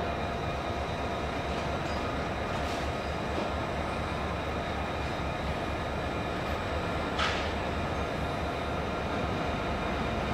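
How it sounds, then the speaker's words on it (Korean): A Korean Mugunghwa passenger train, number 1507 bound for Yeosu Expo, rumbles steadily at a station platform, a continuous loud rolling drone with faint squeals and clicks and no talk. "16시 28분에 여수 엑스포로가는 무궁화호 1507 열차가 곧 출발합니다."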